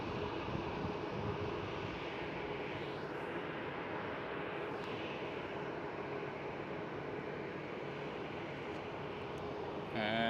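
A KLM Boeing 737 takes off at Amsterdam Schiphol, its broad jet roar rumbling at a distance as a steady wash that fills the whole clip, with a faint rise near the end.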